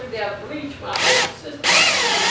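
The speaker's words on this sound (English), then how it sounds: "get my drill and bits and we'll get some holes drilled in the steel" Power drill boring holes in steel for a doorway job, with two loud bursts of drilling separated by a brief lull, close by and alone.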